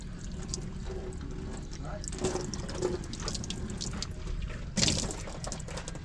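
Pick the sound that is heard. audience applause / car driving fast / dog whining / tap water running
tap water running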